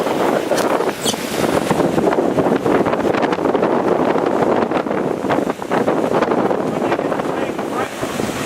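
Strong wind, about 20 knots, roars steadily across the microphone on a sailboat on San Francisco Bay, with rushing water and hull noise beneath, continuous and loud throughout.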